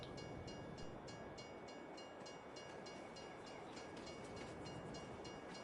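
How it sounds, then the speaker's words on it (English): Train pulling into a station in Farming Simulator 22, a steady loud rumbling roll with faint rhythmic clicking over the rails throughout, no voices. "Here's the train, come in."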